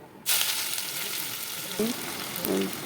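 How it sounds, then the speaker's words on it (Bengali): Hot oil sizzles in a wok heated for frying onions for biryani, starting abruptly and then hissing steadily, with a couple of brief metallic clinks near the end. "এরপর কড়ার মধ্যে তেল দিয়ে দিলাম বেরেস্তা ভাজার জন্য"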